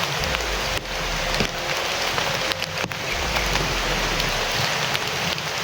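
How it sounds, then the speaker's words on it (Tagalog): Steady rain pours down in a dense, hissing wash, with occasional heavier drips and patters striking a surface nearby. "Kasi umuulan. Yun nga. Tuluan ng tubig ulan."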